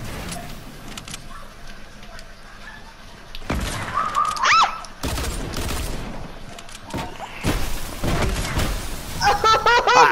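Gunfire in a video game shootout: bursts of close, loud shots arrive in separate clusters after a quiet opening, with whizzing and ringing effects, while voices talk between them.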